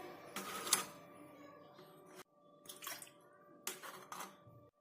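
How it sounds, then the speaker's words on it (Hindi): Water poured from one kulfi mould into the next, a thin splashing trickle in two or three bursts separated by short pauses, moderately quiet with no voices. "ये पानी हम दूसरे मोल्ड में डालेंगे और इसका पानी हम तीसरे मोल्ड में डालेंगे"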